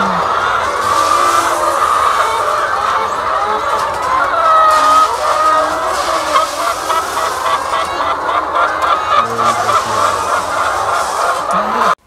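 Dense flock of about 6,000 laying hens in a poultry egg farm shed in Pakistan, a continuous loud wall of overlapping clucks and squawks with no pauses, steady throughout.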